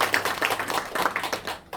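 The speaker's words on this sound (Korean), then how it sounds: "다 같이 한번 박수 드리죠." A small group clapping together at a senior club class session, a short burst of distinct, fairly close hand claps with an uneven rhythm, fading out by the end.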